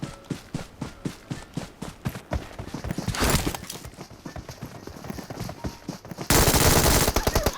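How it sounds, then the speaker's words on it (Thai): Rapid automatic gunfire in the battle royale game PUBG Mobile, a fast rhythmic string of sharp shots, a louder sustained burst around the middle and a dense, heavier volley at the end, close and punchy. "ยิงตรงไหนวะ"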